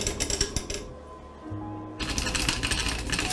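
An automatic blackjack card shuffling machine whirs and clatters with rapid rattling bursts, pausing briefly with a low motor hum before the clattering resumes loudly.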